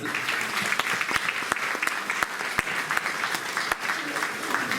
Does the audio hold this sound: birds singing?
no